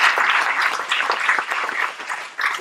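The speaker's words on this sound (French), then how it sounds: "Eh ben on peut les applaudir" Conference audience at a plenary session breaking into loud, dense applause that holds steady throughout, close and full with no talking over it.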